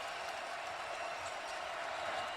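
Basketball arena crowd roaring at a Marquette vs. Syracuse college game, a steady, loud wash of cheering and applause from many voices across the whole moment.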